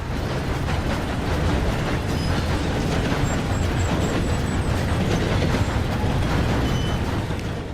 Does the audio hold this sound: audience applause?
no